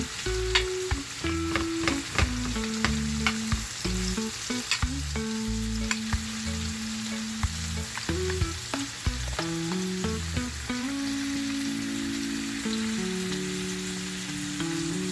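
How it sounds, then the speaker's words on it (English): Garlic and onion sauté together in a pan, a continuous close sizzle punctuated by repeated scraping and tapping of a utensil stirring, with a low hum underneath and no one speaking. "my garlic and my onion, I'm sauteing them together with the flavor from out of the onion"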